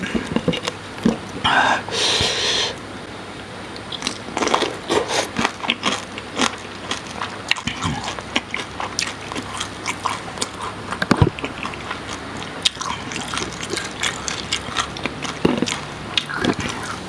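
Someone bites and chews snow shrimp with dipping sauce, close up, making crunchy, crackly bites and wet, rasping chewing in irregular bursts that continue steadily for a long stretch, without talking.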